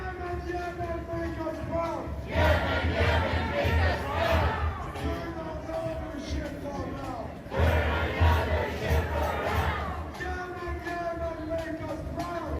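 Crowd at a Houthi support rally in downtown Toronto, shouting and cheering in two loud surges over a steady murmur of voices.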